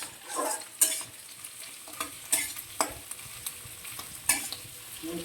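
Onion and capsicum frying in oil in a kadhai while cooking kadhai paneer, a steady sizzle broken by several sharp scraping stirs of a spatula against the pan, with no voices.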